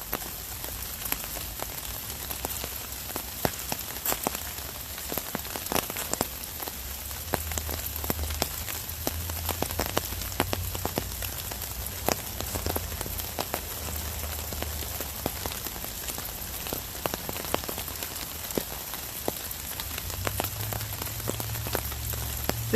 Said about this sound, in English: This is actually really nice with the rain.